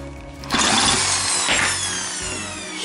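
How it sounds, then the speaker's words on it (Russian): An electric drill spins loudly, whining and revving while unscrewing a bolt on an old Soviet meat grinder, running continuously and close with a slight pitch change midway. "откручивать той же самой дрелью, которую перемалывали"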